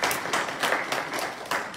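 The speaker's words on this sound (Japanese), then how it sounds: "皆さん拍手をお願いいたします。" At a Honda motorcycle endurance-racing team announcement for FCC TSR Honda France's 2021 EWC season, a small audience applauds, its soft, steady clapping with a few louder claps coming from a moderate distance in the room.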